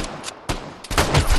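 Gunshots in the online shooter Vigor, a few loud, sharp reports in quick succession, the last ones bunched into a brief burst.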